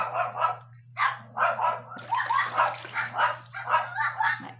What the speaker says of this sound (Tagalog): Maingay yung mga aso. May nakikita silang aso din.